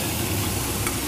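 Fish frying in a pan in Malabar cooking, with steady, dense, close sizzling and faint stirring throughout this brief moment, with no voices.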